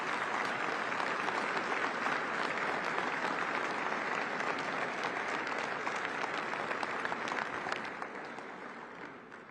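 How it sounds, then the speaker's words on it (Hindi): Sustained applause from a large audience at the Bharat Tex 2024 textile expo inauguration, loud and dense throughout before tapering off slightly near the end. "इसमें तो ताली बजनी चाहिए ना भाई।"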